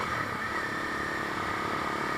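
A Honda CB300F motorcycle fitted with a Yoshimura slip-on exhaust runs at a steady idle, a constant close engine drone with no voices.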